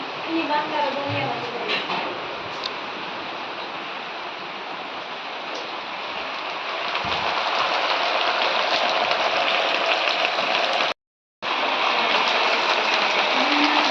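Heavy rain pours outside a family house in a steady, dense hiss that thickens partway through, with voices faintly mixed in.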